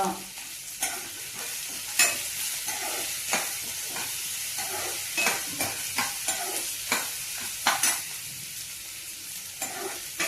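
Peanuts fry in hot oil in a pan for Maggi noodles, a steady hiss broken by repeated sharp scrapes and taps of a spoon stirring, close and fairly loud, with no talking.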